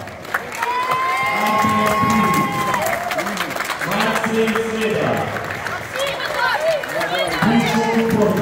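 Crowd at an under-13 youth sports tournament in Oświęcim applauds and cheers steadily through the whole stretch, a dense wash of clapping mixed with shouts and babble, while an announcer's amplified voice carries over it.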